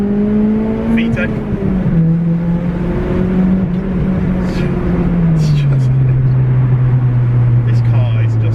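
Honda Civic EP3 Type R engine pulling hard in second gear, a loud, continuous cabin drone whose pitch holds steady, then dips and settles lower partway through, with road and wind noise underneath.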